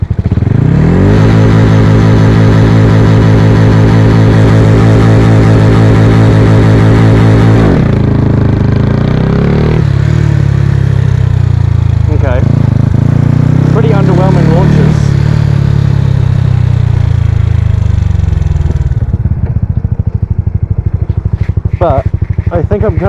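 A Honda Wave 125i underbone motorcycle with a 143cc engine revs loud and close, a steady high drone dropping away then surging again in rough, clattering bursts, with a voice briefly over it.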